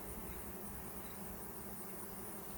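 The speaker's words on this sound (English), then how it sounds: "There's a lot of bees down low" A swarm of honey bees buzzes low near a tree, a dense, steady hum that holds evenly throughout with no pauses.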